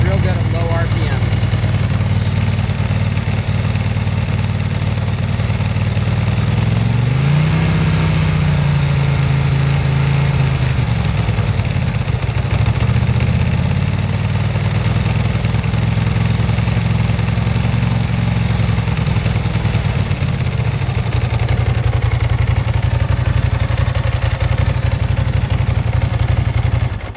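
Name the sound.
Ducati ST2 motorcycle engine idling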